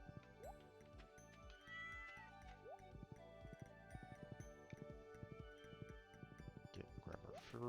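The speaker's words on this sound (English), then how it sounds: "Let's go pet the kitty." A cat in Stardew Valley meows while being petted, with repeated short meows over bright, plinking game music and chimes.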